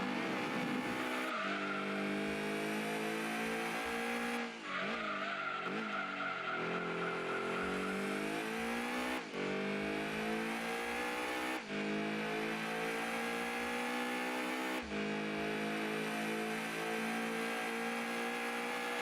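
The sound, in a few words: Lancia Stratos race car engine and skidding, Gran Turismo 2 video game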